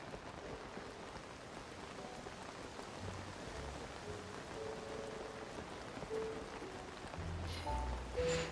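Rain falling in Hateno Village in the video game Zelda: Tears of the Kingdom makes a soft, steady patter throughout, faint, with a few small tonal game sounds toward the end.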